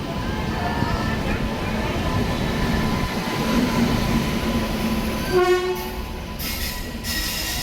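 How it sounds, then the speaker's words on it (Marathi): A train pulls into a station platform with a loud, steady rumble of wheels and carriages, then a brief horn-like tone and squeal near the end as it slows, with a voice speaking over it. "फायनली ट्रेन आली आहे"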